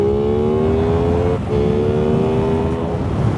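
A 2021 Aprilia Tuono 660 motorcycle cruises on the highway, its engine holding a loud, steady drone with rising pitch, a brief dip during a gear change, and wind rushing over the close-up engine tone.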